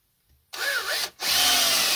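A 12V battery drill drives ordinary screws, running powered from a car battery in two close, loud bursts. Its motor whines under load, and there is a brief pause between the bursts.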